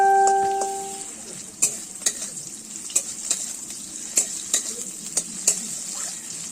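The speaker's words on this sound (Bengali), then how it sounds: "তাতে আমি সরষে তেল ঢেলে দিয়েছি এবং পেঁয়াজ কোটা ভেজে নিচ্ছি ভালো করে।" Chopped onions fry in mustard oil in a wok, a steady sizzle broken by repeated sharp scrapes and clatters of stirring, close and fairly loud with no talking.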